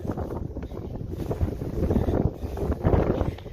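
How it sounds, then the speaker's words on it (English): Strong gusty wind roars and buffets the microphone continuously, with no voices. "once again, it is windy"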